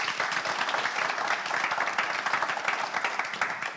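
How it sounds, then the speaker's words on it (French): Studio audience on a French-language TV game show applauding a contestant, a steady, fairly close wash of clapping from many hands lasting a few seconds without letup. "On l'applaudit encore, s'il vous plaît."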